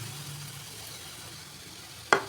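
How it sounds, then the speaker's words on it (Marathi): Grated coconut is added to hot ghee for modak filling, giving a faint low sizzle followed by one brief, sharp hiss near the end. "तूप पण आपलं गरम झालेलं आहे. त्याच्यामध्ये आपल्याला खोबरं ॲड करायचं आहे."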